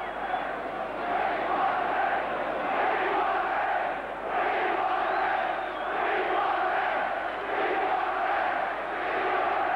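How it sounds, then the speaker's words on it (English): Football crowd at Liverpool versus Arsenal in a 1980 FA Cup semi-final third replay, a dense roar of many voices chanting "We want a ref" in rolling waves, steady and loud throughout. "Well, you can probably hear the crowd. We want a ref."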